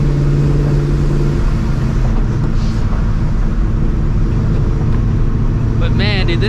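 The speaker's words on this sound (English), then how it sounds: "Even though I don't need to be revving this car right now at all" A supercharged 1999-2004 Mustang GT V8 running loud and close, a heavy rumbling drone with a brief rising whine toward the end, while someone talks over it.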